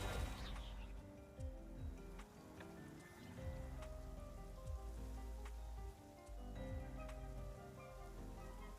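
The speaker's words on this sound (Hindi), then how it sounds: "तो पानी बारिश तो हो ही रहा है।" Rain patters softly in the video game Genshin Impact, a faint wash of falling water beneath game sound effects and musical tones.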